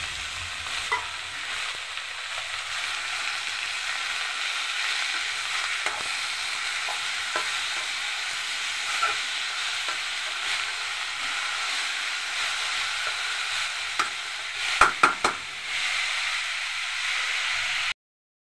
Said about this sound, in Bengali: এখন শুরুতে আমি ডাঁটা শাকটা দিয়ে দিলাম